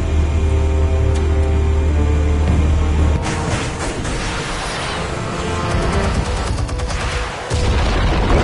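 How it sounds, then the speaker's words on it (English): Explosives go off in Batman: The Enemy Within, a heavy low boom followed by rumbling debris and crackling bursts that swell and fade over several seconds, with no voices. "Explosives armed. Fire when ready."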